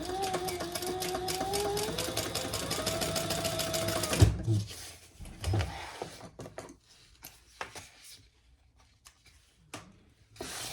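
A sewing machine top stitches a bag gusset with a fast, steady run of needle strokes for about four seconds, then stops, leaving soft handling noises and fabric rustle.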